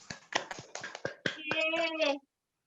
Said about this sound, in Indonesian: di unmute dan tepuk tangan buat setiap kita dong teman-teman